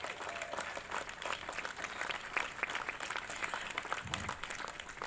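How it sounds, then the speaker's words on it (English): Sustained audience applause for a Mississippi blues musician, a dense steady wash of many hands clapping that holds evenly throughout. "Let's give him another round of applause."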